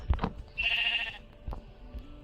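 A sheep bleats once in a short, fairly close call on a hillside outdoors, framed by a few soft thumps and knocks, with no talk.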